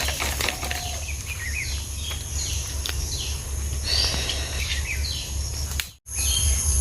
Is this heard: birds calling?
yes